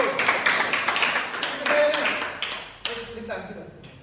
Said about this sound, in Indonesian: aplaus dulu untuk aplaus satu